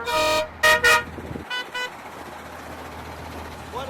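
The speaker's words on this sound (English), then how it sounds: "People just can't stop but honk and say hi." Trucks in a convoy of trucker's freedom rally vehicles in Grande Prairie, Alberta, give a few short honks, one loud pair close by and fainter toots after, over engine rumble with a voice briefly heard.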